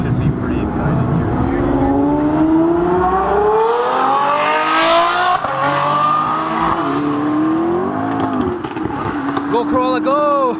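A Toyota Corolla races past outdoors in hot weather, its engine rising in pitch as it approaches and then fading, with other traffic and people talking throughout.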